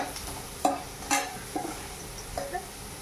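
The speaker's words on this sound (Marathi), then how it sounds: "आता तुम्ही बघताय बटाटे ब्राऊन होत आले आहेत ऑलरेडी।" Potatoes fry in a pan with a low background sizzle, broken by several distinct scraping knocks as a spoon stirs them at an uneven pace, close by.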